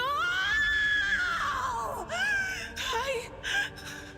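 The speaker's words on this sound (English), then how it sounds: "What a scream." A woman screams in the Warhammer 40,000: Rogue Trader video game, with a long, wavering, high-pitched cry that rises and falls, then breaks into shorter anguished wails and gasps, close and loud.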